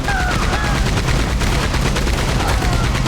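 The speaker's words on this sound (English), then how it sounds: "did they bring in a Gatling gun? Oh, you better believe I'm using that." Rapid, continuous Gatling gun fire from Red Dead Redemption 2, loud and close, a dense unbroken stream of shots with faint game sounds underneath.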